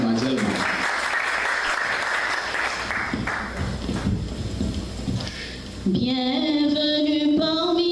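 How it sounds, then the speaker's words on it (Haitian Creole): An audience applauds at a cooking-course graduation ceremony, a dense, steady burst of clapping for about five seconds that fades out before a voice takes over. "Veuillez applaudir s'il vous plaît"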